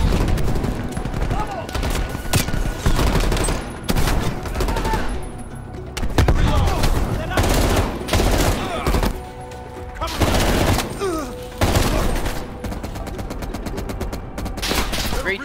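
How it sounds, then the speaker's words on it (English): Enemy gunfire in Call of Duty Cold War, sustained and loud bursts of automatic rifle and machine-gun fire coming in waves with short gaps, and voices talking underneath. "Yeah, they're shooting at us."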